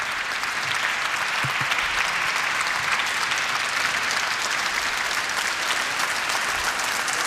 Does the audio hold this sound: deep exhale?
no